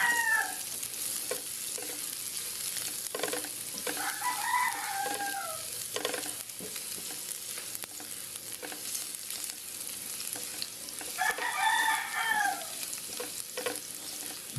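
Garlic sizzling and being stirred in a frying pan, a steady hiss of frying under scattered scraping stirs, with a rooster crowing twice in the background.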